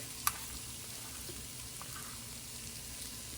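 Chicken biryani ingredients saute in a pan with a soft, steady sizzle, broken once early by a brief sharp click; no voices.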